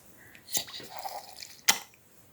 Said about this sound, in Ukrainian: і я капаю пару капель води